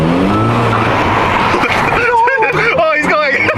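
A front-wheel-drive FBO GTI driven hard in a street race, its engine loud and close with the turbo spooling in rising and falling whines as the revs sweep up and down.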